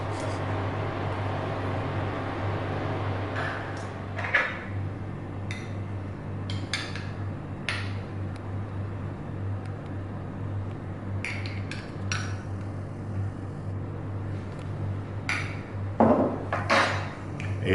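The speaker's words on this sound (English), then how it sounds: "Voilà, on va bien mélanger ça." Salad being tossed with seasoning sauce in a bowl, scattered clinks and scrapes of utensils against the dish, irregular and close, over a steady low kitchen hum.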